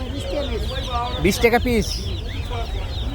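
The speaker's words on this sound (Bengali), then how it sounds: "এই যে এখানে মুরগির বাচ্চা আছে" Chicks at a livestock market chirping and clucking in short high bursts close by, heard under steady market bustle while someone talks.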